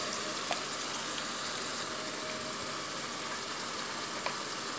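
Garlic paste frying in a pan gives a soft, continuous sizzle throughout, close but moderate in level, with a couple of faint ticks and no talking.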